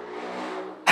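A loud jeepney engine and exhaust drone steadily at close range, a rough mid-pitched rumble cut off by a sudden sharp burst at the end.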